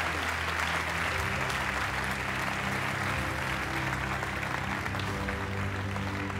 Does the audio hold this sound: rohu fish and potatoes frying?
no